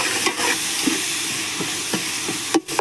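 Onions sizzle and fry steadily in a pan as a base for rice, a continuous close hiss broken by soft stirring scrapes and occasional spoon clinks, with no voices.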